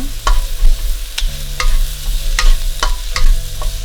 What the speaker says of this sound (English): these mushrooms burn a little bit, just to bring the flavor out